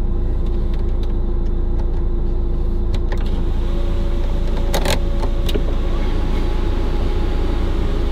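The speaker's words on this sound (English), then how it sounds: "So this car has a very nice sunroof that is also very difficult to use." An electric sunroof and shade on a diesel Volkswagen Jetta TDI SportWagen whir as the motor runs inside the cabin, with clicks and a brief mechanical clunk partway through over a steady low idle hum.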